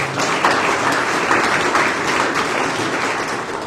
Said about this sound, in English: can we get a big round of applause for them as well?